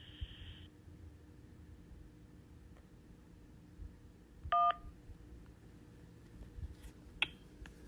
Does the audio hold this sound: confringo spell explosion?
no